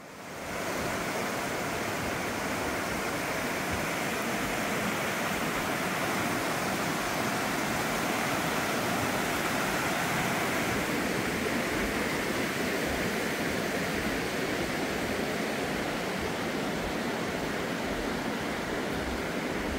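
Steady rushing water fills the whole stretch, a constant broad roar of the Baemsagol valley stream on Jirisan flowing nearby, with no voices.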